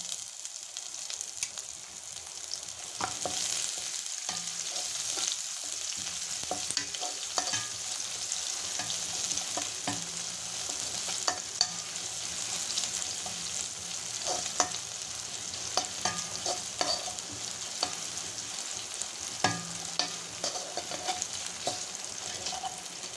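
Small sambar onions and crushed garlic fry in a pan for a fish curry, a steady low sizzle with frequent light scrapes and taps of stirring throughout.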